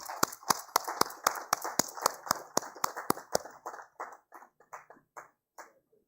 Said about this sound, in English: Please give a big round of applause to Satin Care Credit Network Limited.